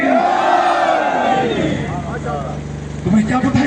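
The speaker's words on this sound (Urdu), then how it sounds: "نعرہ حیدری" A large crowd roars a Shia religious slogan in unison at a Chehlum procession in Nomal, the loud massed shouting swelling and fading over a steady backdrop, with a second surge rising near the end.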